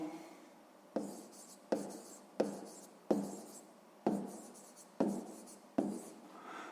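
Pen strokes on paper while numbers are written for a sixth-grade math exercise, eight scratchy bursts in a steady rhythm, each starting sharp and fading, close and quiet with no voice.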